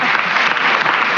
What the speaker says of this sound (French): je pense qu'on peut déjà commencer par l'applaudir